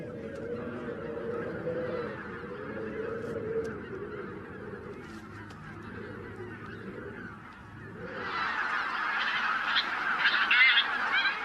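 Wild geese honk from a flock at a frozen, snow-covered wetland forest by the Morava river in winter, calling steadily and moderately near, with the chorus growing louder and brighter toward the end.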